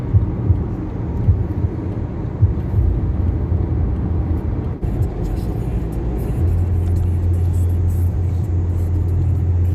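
Street traffic in Baku with passing cars including Toyota, Honda, Nissan, Mercedes, BMW and Audi, old and new, a loud continuous rumble of engines with a steady low drone building in the last few seconds.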